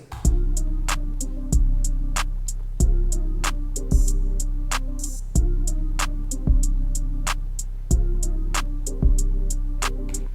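A steady looping hip hop beat with punchy kicks, crisp hi-hats and a repeating bassline, playing alone with no voices.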